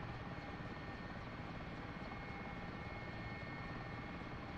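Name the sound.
Mi-8 helicopter rotor and engine in DCS video game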